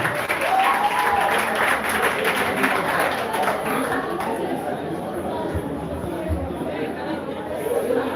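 An audience at a conference hall claps continuously, a dense, loud wash of applause mixed with crowd chatter and voices throughout.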